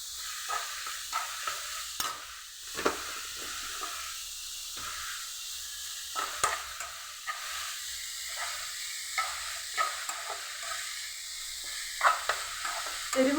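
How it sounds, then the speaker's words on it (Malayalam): Food frying in a pan at home, stirred repeatedly: a continuous hiss and sizzle broken by intermittent scraping strokes of a spoon, close and moderately loud, with no talking. "നമ്മളത് ഇളക്കി കൊടുക്കുക."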